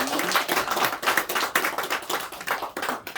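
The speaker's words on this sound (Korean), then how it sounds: "우리 하나님께 영광의 박수를 올려드리겠습니다." A congregation at a Korean church's Sunday morning service claps together in a steady, rhythmic burst of applause that fills the whole room at close range.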